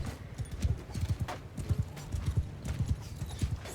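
Horses gallop in Mount & Blade II Bannerlord as a cavalry group of sixteen charges, a rapid, uneven drumming of hoofbeats at mid distance, continuous and fairly loud with no voices over it.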